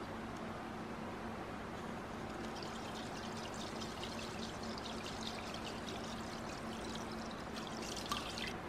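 Epsom salt pours into a vinegar galvanizing solution, a steady, soft, continuous granular hiss that stays even and close throughout.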